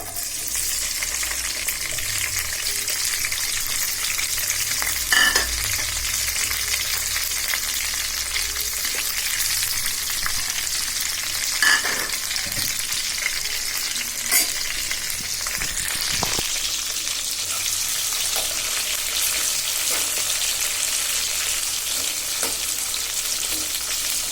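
Onion, garlic and green chillies sizzle steadily in hot oil in a wok, a dense continuous frying hiss with occasional sharper pops and stirring scrapes, close and without any talking.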